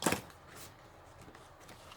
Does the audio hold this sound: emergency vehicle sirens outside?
no